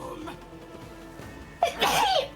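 A single sharp sneeze bursts out near the end, after a stretch of quieter background voice chatter during a cooperative game session.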